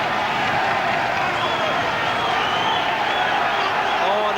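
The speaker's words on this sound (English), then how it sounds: "All the old fighters are cheering around the ringside." Steady roar of a crowd cheering and clapping around the ringside at a boxing match, loud and continuous with no break.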